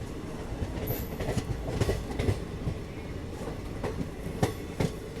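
A goods train rolls along a railway line near Gomoh in India, its wheels clattering in steady clickety-clack beats over a low rumble, heard from a nearby passing train with no talk.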